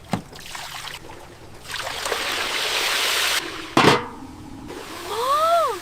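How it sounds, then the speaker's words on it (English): Liquid is poured into a heavy tray outdoors, giving uneven bursts of splashing, rushing noise that start and stop, with a brief whistling tonal sweep near the end. "Let's pour it in!"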